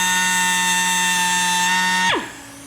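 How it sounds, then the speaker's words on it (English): Powered ring cutter or grinder trimming an engine piston ring to set its gap, a loud steady tonal whine held for about two seconds before spinning down sharply, close by with no talk. "But Sean is cutting this ring right now, and then I'll file it"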